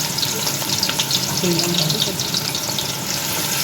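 Onions fry in hot mustard oil, giving a steady, close sizzle and crackle with faint stirring.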